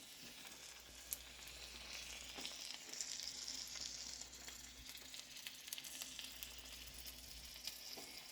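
Steak sizzling and frying in a hot pan, a steady close hiss throughout with a few faint clinks and no talking.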